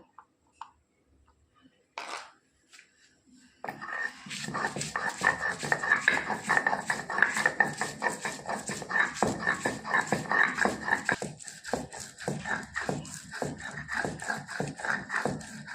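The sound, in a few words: grinding ginger and garlic together by hand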